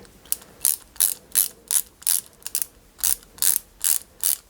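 A screwdriver turns type G screws into a 1/8 scale Ford Mustang model kit, in short, regular ratcheting clicks, about a dozen bursts in quick rhythm, close and crisp.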